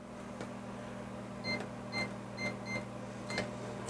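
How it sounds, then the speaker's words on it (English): A microwave oven runs with acorn squash inside in a home kitchen, giving a steady low electrical hum. Faint clicks and light tonal blips rise over it every half second or so, and no one speaks. "let me toss this in this microwave here"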